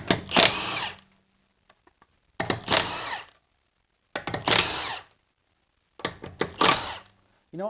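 Milwaukee high-torque impact wrench fires in four loud, close bursts of about a second each, its hammering rattle separated by short silent gaps.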